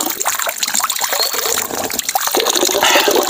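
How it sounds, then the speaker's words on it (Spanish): Natural spring water running steadily from a small hose at El Zapote, a close, continuous loud splashing and trickling stream with no pauses. "aquí por medio de esta manguerita, miren, aquí está el agua natural"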